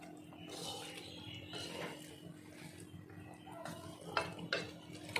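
Chicken biryani masala is stirred in a pot with soft scraping and light clinks from the utensil, followed by a few sharper knocks near the end. The sounds are faint and close.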